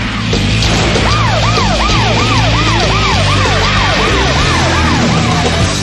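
A loud wailing siren sweeps up and down in rapid repeated cycles in an animated Yu-Gi-Oh card duel, steady and close, over a low rumbling background.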